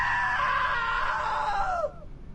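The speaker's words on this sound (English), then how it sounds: "Now that was a great scream." In the game What Remains of Edith Finch, a single piercing female scream holds for nearly two seconds, wavering slightly, then drops in pitch and breaks off sharply into near silence.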